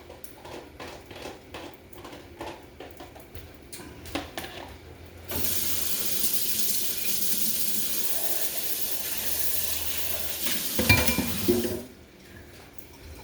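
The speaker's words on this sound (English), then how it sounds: "So don't just put some hot water on them, stick them in the sink, wash as you go" Hot pans being washed under running kitchen sink water after cooking fried rice: a steady, close hiss of tap water runs for several seconds, after scattered clinks of pans and utensils, with no talking.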